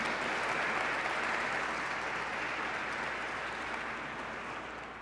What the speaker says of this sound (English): Applause for the NDP in Mississauga.